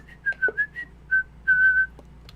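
A person whistles in imitation of SpongeBob's goofy whistle: a close, clear run of short chirpy notes followed by a couple of longer held tones, heard alone.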